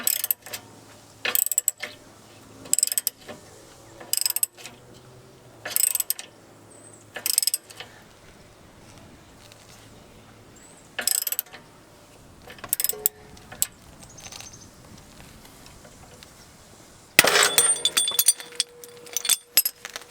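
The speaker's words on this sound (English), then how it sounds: "we've got our 19mm ratchet on. You gotta watch your hands, because this kind of can come off with some energy" A 19mm ratchet tightens a tool on a Honda Pilot subframe in repeated bursts of clicking, with pauses between strokes, then ends in a sharp, loud metallic pop.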